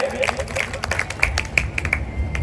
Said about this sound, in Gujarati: આપણે કાનાબાર ન્યૂઝ વાળા પધાર્યા છે તો એમને પણ તાળીઓના નાથે વધાવીએ